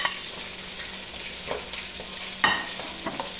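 Vegetables stir-fried in a hot pan for bihon noodles, with a steady close sizzle and occasional scraping clatters of a utensil against the pan, no talking.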